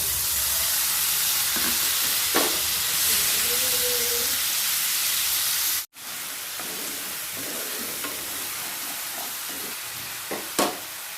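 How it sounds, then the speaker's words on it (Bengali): Ginger onion paste frying in hot oil for a Bengali pabda fish mustard curry, a steady soft sizzle and hiss with occasional sharper spatters and a brief pause midway. "তেল গরম হয়ে গেছে, প্রথমে দিয়ে দেব আদা পেঁয়াজ বাটা"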